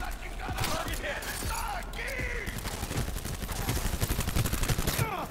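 Gunfire and grenades in the Cyberpunk 2077 video game: rapid bursts of shots crackling through a busy firefight, loud and close, with scattered impacts and a few shouted voices.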